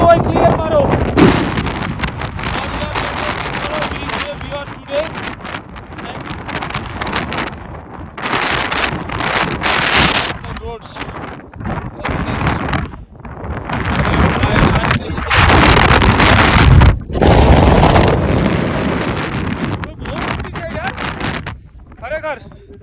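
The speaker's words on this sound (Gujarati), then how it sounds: "પવન એટલો જોરદાર છે ને" Strong wind buffets the microphone in the mountains around Leh, heavy gusty roaring that rises and falls in loud surges, with people talking under it.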